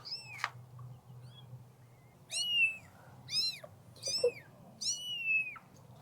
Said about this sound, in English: We have chicks and kittens.